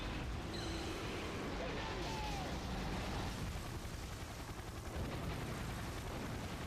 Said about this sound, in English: I'm going to show you the spiral breath attack